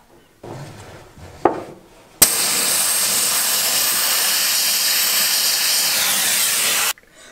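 A glass bead blaster loaded with 100–200 micron beads sprays onto the rusty body of a BMW E36 325i, a loud continuous pressurized hiss lasting several seconds after a brief start-up, then cutting off sharply.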